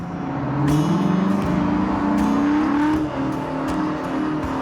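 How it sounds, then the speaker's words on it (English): The biggest tractor ever made idles and runs steadily close by, a deep, powerful engine drone with a rising pitch partway through and a few brief clanks over the rumble. "This is what the biggest tractor ever made sounds like."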